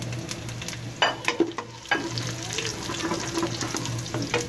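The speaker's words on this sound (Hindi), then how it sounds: "आधे प्याज जो हमने बचाए हैं इनमें हम डाल लेंगे ये खड़े मसाले।" Whole spices sizzle in hot oil with half-fried onions for a Pakistani beef mince and potato curry, a steady crackle broken by a few sharp stirring clatters and spoon scrapes near the pan.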